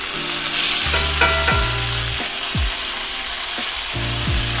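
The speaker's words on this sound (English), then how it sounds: "So I got to let you hear the sear." A ribeye steak searing in a very hot cast iron pan with avocado oil gives a loud, continuous close sizzle and spatter, with a few clanks of the pan or utensil; no talking.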